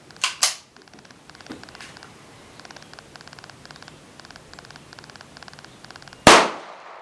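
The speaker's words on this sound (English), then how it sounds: "So I'm going to shoot this for you, show you what it's like." A Colt Woodsman .22 LR pistol fires outdoors: two sharp cracks close together, then one fainter pop, a long run of faint clicking, and a final loud report near the end.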